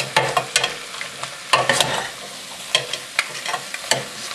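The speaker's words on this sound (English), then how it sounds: "I got carrot, celery, and onion. Give them a quick mix." Carrot, celery and onion stir-fry loudly in a pan, a close, bright sizzle broken by quick scraping strokes of a utensil tossing the vegetables. Voices are absent.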